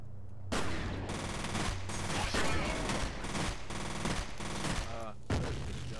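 Rapid bursts of automatic gunfire from the shooter game F.E.A.R. Platinum crackle loudly and repeatedly over about six seconds, with short gaps between the volleys.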